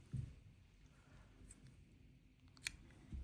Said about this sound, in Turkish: arta kalan kısmını kesiyorum.